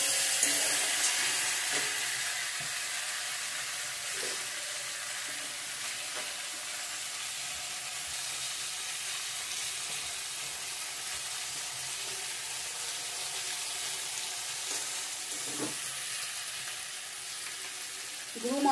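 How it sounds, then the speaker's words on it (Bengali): Spices frying in a pan with small potatoes, peas and paneer for a curry, a soft continuous sizzle and hiss with light stirring, fairly quiet and close. "ভালো করে ভেজে নেব।"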